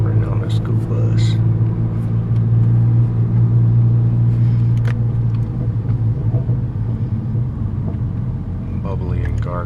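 Volkswagen GTI fitted with an APR 3-inch downpipe and straight pipes, its exhaust giving a steady low, burbling drone while cruising on the road, close and loud throughout, with someone speaking quietly over it.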